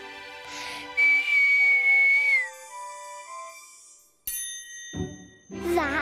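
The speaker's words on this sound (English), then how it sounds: "It changed when you made that whistly noise." A cartoon whistle makes the stars jingle. A long, steady whistled tone gives way to bright tinkling chimes and ringing notes, with a short sparkly burst near the end.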